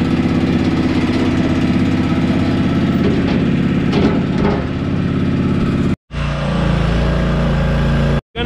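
A gasoline engine on a compressor idles steadily while warming up, a loud, continuous rumble broken by two brief cutouts near the end.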